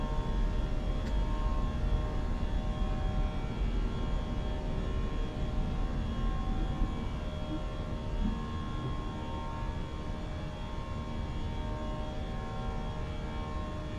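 Steady broadband engine roar of a British Airways A320 airliner climbing out after takeoff in a flight simulator, a continuous loud drone with a faint tonal hum and no talk.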